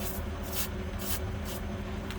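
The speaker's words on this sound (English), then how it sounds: "If you look up here where I'm spraying these bolts" Penetrating spray hisses in several short bursts onto the exhaust manifold bolts of a van being prepped for a new Y pipe and catalytic converters, heard close over a steady low hum.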